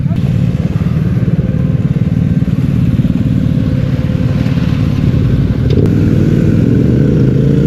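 Motorcycle engine on a road trip in Tunisia, a loud close steady drone with some rattle and clatter while the bike rides from asphalt onto a dirt track.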